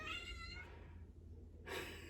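A house cat meows, a short voiced call near the start with a second brighter cry toward the end, heard close and alone with no talk.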